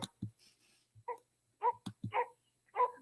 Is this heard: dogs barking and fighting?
yes